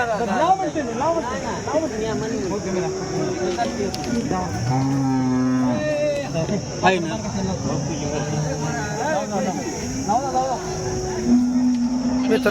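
Cows at the Sangola cattle market in June moo repeatedly in long, loud, drawn-out calls, with several animals overlapping amid crowd chatter and people talking nearby.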